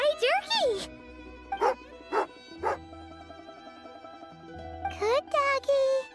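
A dog in Genshin Impact barks in a few short, sharp yaps and yips, fairly close and loud, with game voices talking before and after the barks.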